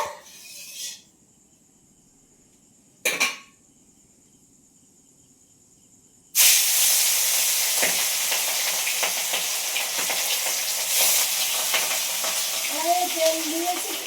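Hilsa fish rubbed with turmeric and salt drop into hot oil in a wok and burst into a loud, continuous sizzle after a few brief hisses, with crackling spatters over the steady frying.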